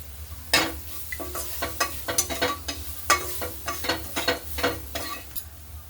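A spoon stirs and scrapes ground masala with turmeric and coriander in a pan for Mumbai-style vada pav, making quick, rhythmic scraping strokes over a soft sizzle.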